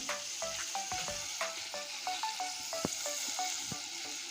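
Spices with turmeric frying in a pan, a steady sizzle with repeated scraping and stirring strokes, close and alone.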